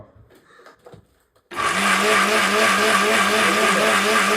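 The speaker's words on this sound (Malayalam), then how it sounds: "എന്നാ മിക്സി ഒന്ന് ഓണാക്കി" After a quiet moment, a mixer grinder switches on and runs with a loud, steady, high whirring whine until the end.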